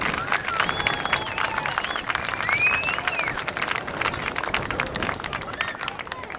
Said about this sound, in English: Let's give all these young ladies another round of applause